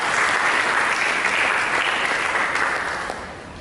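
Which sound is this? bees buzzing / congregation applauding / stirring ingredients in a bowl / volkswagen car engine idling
congregation applauding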